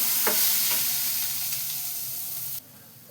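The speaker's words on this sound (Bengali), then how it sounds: "এইবার এটা নিয়ে পুরো ভালো করে ভাজবো।" Chopped green chilli and garlic sizzle and crackle in hot oil in a pan, a close, dense frying hiss with a few stirring scrapes, which drops suddenly near the end.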